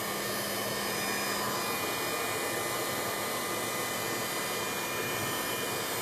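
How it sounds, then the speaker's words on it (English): A heat gun blows continuously at close range, a steady, even rushing whoosh with no breaks for the whole stretch. "you can also move this using your heat gun or hair dryer"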